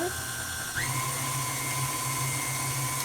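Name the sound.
stand mixer kneading ciabatta dough on speed 4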